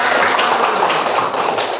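Children clapping their hands together in a classroom, a dense, steady patter of many small claps filling the space, fairly loud and close throughout.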